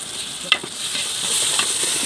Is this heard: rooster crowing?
no